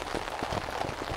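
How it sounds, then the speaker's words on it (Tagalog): Heavy rain falls on a campsite tent, a dense, steady patter of drops close by with no voices. "Umuulan pa rin guys"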